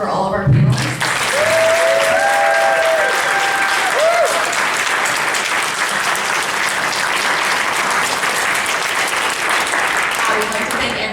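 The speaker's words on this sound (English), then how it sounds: "Let's get a round of applause for all of our panelists." Warm, steady audience applause for conference panelists at a cannabis policy event, a full room clapping continuously, with a few brief voices and whistles early on.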